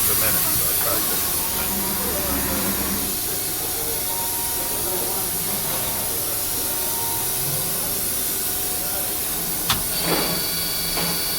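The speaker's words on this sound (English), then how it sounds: "Got a lot of covers up here, and they will make noise on the way back." Steady machine hiss and metallic sliding rumble as the telescoping way covers of a DMG Mori Dura Vertical 1035 CNC mill travel quickly in rapid, with a faint whine and a brief sharp tick near the end.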